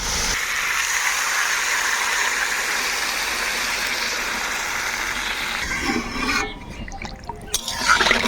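Water pours steadily into a cooking pot of sautéed yam pieces as a loud, continuous gushing splash for about six seconds, then stops, leaving a few faint clinks and settling sounds.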